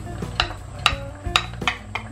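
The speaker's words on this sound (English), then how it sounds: "Stir that around. Maybe move the carrots and the onions to the bottom." Carrots and onions being stirred in a Dutch oven, with five distinct metallic clinks of a utensil against the pot over a low background hum, no speech.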